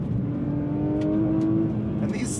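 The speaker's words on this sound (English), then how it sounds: "really feeling that flat six motor" The flat-six engine of a Porsche 911 GT3 hums with a clear rising harmonic tone under load, heard close from inside the car over a steady road rumble.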